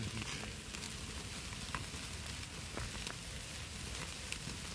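Butter-coated steaks sizzling on a TJM grill grid over an open wood fire outdoors, a dense steady crackle and hiss with small pops, close and even throughout.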